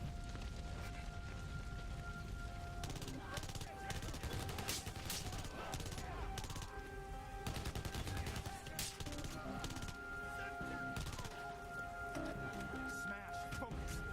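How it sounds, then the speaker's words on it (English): Gunfire from the Xbox 360 video game Blackwater, a steady stream of game shots and bursts mixed with other game noise throughout, with voices talking intermittently over it. "He's standing in the fire, shooting at me."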